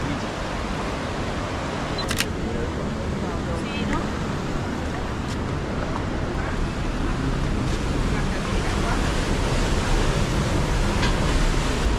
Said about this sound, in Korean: 지금 이 집 밑으로 강물이 흐르는 거예요